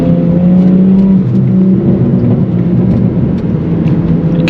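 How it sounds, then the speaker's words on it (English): A loud BMW accelerates through traffic near a tunnel, its engine drone joined by a steady, rising turbo whir, close and continuous with no talk. "Can y'all hear that turbo spool?"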